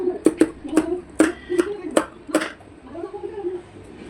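Scissors snip through the extra fabric of a potli button sleeve, about seven crisp, evenly spaced cuts in quick succession, close and clear, with a voice murmuring quietly underneath.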